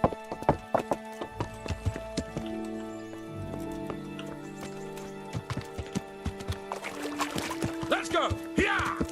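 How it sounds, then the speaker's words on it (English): Horse hooves clip-clop in Kingdom Come: Deliverance, a series of sharp, rhythmic hoofbeats under sustained musical tones, with a voice talking over them. "I can outrun his horse."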